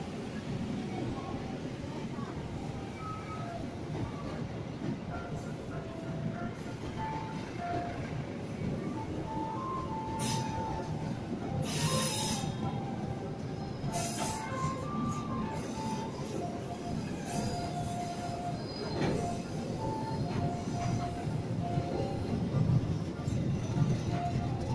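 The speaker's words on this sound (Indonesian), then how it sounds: "Masih di jalur 3, komuter lain tujuan akhir stasiun Bekasi." A commuter train rolls along the rails at a station on the line to Bekasi, a continuous loud rumble with faint clacking and squeal, while an announcement voice speaks over it.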